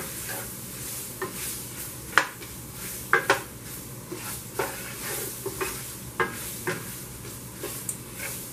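Chopped onion sizzles steadily in liver pan drippings, a constant hiss punctuated by scattered clinks and scrapes of stirring against the pan, with no talking.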